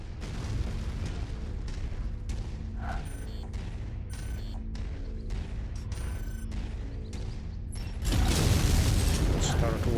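Buildings collapsing under fire in MechWarrior, with mechanical clanking and rhythmic impacts giving way to a loud, sustained rumbling blast near the end, while a player talks.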